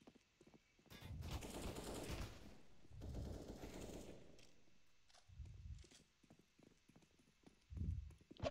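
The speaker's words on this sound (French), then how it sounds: "ça a tiré derrière moi" Bursts of gunfire from the Counter-Strike video game come in two long rattling volleys, then louder single booming shots, with clicks and footsteps between them and no talk.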